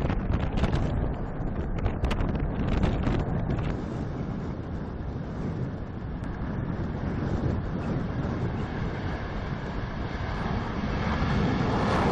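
A large military airplane built in 1985, heard as a steady, loud engine roar with wind buffeting the microphone throughout, and no voices.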